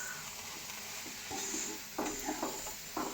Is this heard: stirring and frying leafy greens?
yes